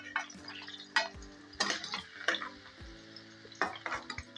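Chopped cauliflower frying in oil in a pan at home, soft sizzling under intermittent scraping and clinking as a spoon stirs it against the pan, quiet and close with no talk.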